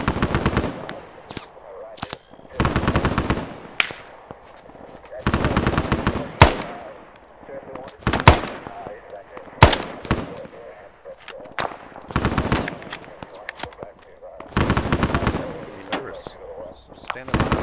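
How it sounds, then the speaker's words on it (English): A mounted M60 machine gun fires in a Vietnam War game, loud bursts of rapid shots with single booming blasts in between, while voices talk over and between the bursts. "I've got a couple of mounted M60s in these bunkers."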